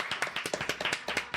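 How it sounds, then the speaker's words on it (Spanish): A short burst of hand clapping at a Spanish-language studio show, a quick run of sharp claps from what sounds like a small group, fairly close and without voices. "Un aplauso gigante para Camila Miranda, Víctor Orellana y Gilbe"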